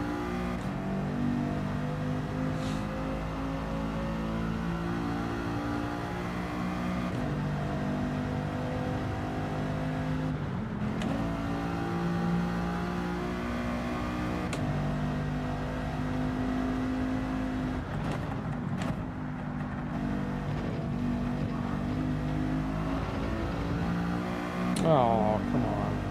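Car engine in Gran Turismo 7 with a steady, loud drone of shifting pitch as it is pushed hard through corners, briefly surging near the end, running continuously beneath a voice.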